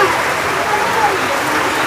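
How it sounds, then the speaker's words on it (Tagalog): Steady rain falls as an even, dense hiss, close and fairly loud, with no break across the moment. "walang humpay ang ulan"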